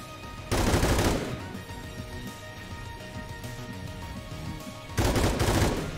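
A UMP submachine gun in XCOM 2 lets off two short bursts of rapid automatic fire a few seconds apart, loud and close over a steady game background.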